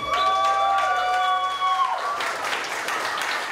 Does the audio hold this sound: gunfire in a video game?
no